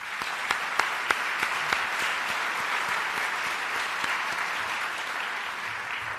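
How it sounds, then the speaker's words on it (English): An award show audience claps steadily, a broad wash of applause with a few sharp individual claps standing out near the start. "I want to give you guys a round of applause"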